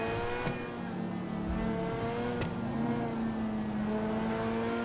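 A car engine in the video game GTA 5 revs and accelerates, a steady loud tonal whine with rising and shifting pitch, alone and close.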